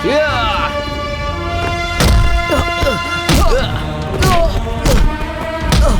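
Repeated heavy thuds and whacks of a beating in a dubbed South Indian action movie fight, landing about every second and a half over a bed of dramatic music.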